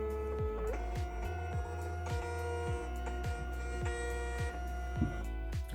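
A Dymo LabelWriter 4XL label printer runs steadily, its motor giving regular soft ticks about twice a second over a constant whir, fairly close and alone.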